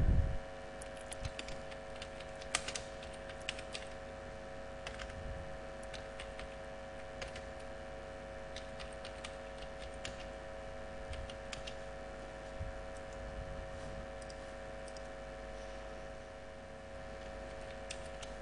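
Keys tapped on a computer keyboard while formatting text in MS Word 2007, sparse faint clicks scattered over a steady low hum, no voices.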